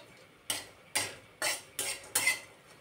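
Thin coconut slices dry-roasting in a pan, heard as five distinct rhythmic scraping strokes of a spatula tossing the pieces, close and clear with quiet gaps between and no talk.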